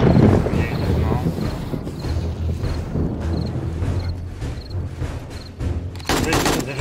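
Repeated gunfire bursts with low booms over a rumbling background, voices talking underneath, ending in a louder volley, in the video game 7 Days to Die.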